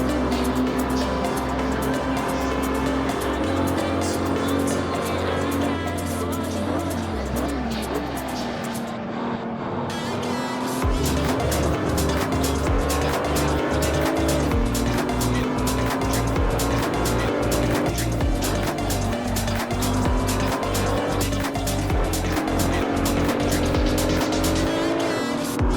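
In the Assetto Corsa racing game, a race car engine roars continuously with shifting revs and gear changes while tires squeal and skid through a near spin, loud and unbroken throughout.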